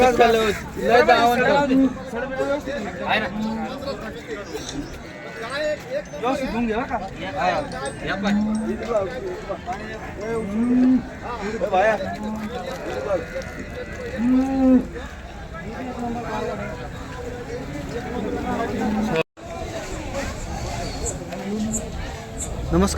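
Cows moo repeatedly at the Loni cattle market, with several deep lows rising over crowd chatter and someone speaking close by.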